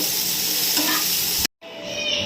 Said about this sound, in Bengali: আর এক চিমটি নুন দেব দিয়ে নেড়ে চেড়ে লাল লাল করে ভেজে নেব